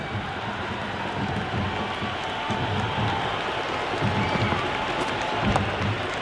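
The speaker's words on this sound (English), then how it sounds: "The crowd is electric right now." Crowd at a T20 cricket match between Sri Lanka and England, cheering and applauding in a dense, continuous roar that holds steady throughout with a faint commentator voice beneath.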